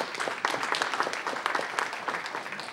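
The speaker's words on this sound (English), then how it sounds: "Please give them a round of applause." Audience at a city council meeting gives a round of applause: a brief burst of many hands clapping, moderately loud and uneven, fading slightly toward the end.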